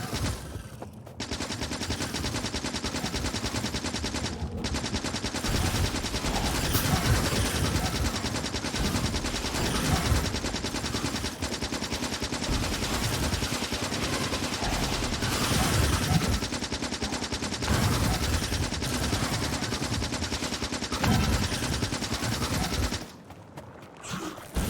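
Sustained rapid automatic gunfire from a submachine gun blasting at swarms of alien biters in Factorio, loud and continuous for nearly the whole stretch, with a brief break near the start and a drop at the end.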